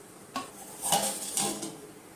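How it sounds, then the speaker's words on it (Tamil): A metal lid clanks onto a pot of simmering village-style fish curry: a few sharp clatters and rattles close by, with no talk. "மூடி போட்டு மூடிடலாம்."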